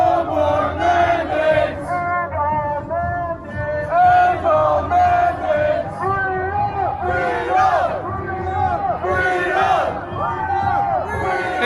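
At a Freedom Rally in Toronto, a large outdoor crowd chants and shouts in loud rhythmic waves, with many voices rising and falling together and a murmur of babble underneath.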